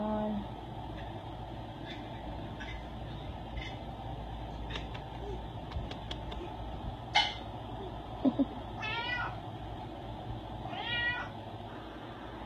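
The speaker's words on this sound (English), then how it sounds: "one of the reasons she is meowing a lot is because she hears stainless steel kitty bowls" A shelter cat meows a few times, with short, clear calls near the end, over a constant low rumble of room and background noise.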